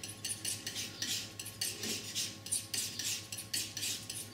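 A painting knife scrapes and rubs white oil paint into a mixture on a palette, giving repeated close, gritty strokes in an even rhythm with no talking.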